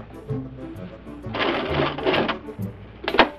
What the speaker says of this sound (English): I'm going to sew through the elastic.